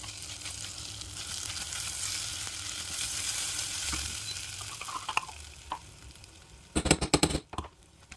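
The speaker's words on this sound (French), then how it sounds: "dans une casserole, j'ai rajouté une cuillère à café de margarine, 2 gousses d'ail. On les laisse revenir quelques minutes." Garlic and rice sauté in a spoonful of margarine in a saucepan, a steady close sizzle under stirring, ending with a few louder clattering scrapes of the spoon against the pan.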